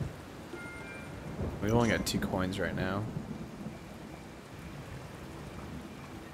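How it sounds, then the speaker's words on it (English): A thunderstorm with steady rain hisses throughout a night scene in the video game Kingdom, while someone talks over it for a few seconds. "It's quite the stormy night."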